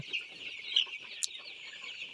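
Young Sonali chickens, around 24 days old, cluck softly while feeding, a scatter of faint short calls with a couple of brighter chirps standing out, no talking.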